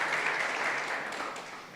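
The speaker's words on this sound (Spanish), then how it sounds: "Dele un aplauso al Señor si lo cree esta mañana." A church congregation gives a brief burst of applause during a Spanish-language Christmas Day service, a dense, fairly distant clatter of many hands that fades slightly over under two seconds.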